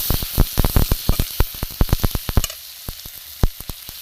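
Spice powders with salt, turmeric and chili sizzle in hot oil for a spinach and small prawn kofta curry, with rapid sharp spatters and stirring crackles that are dense at first, then thin out to sporadic pops.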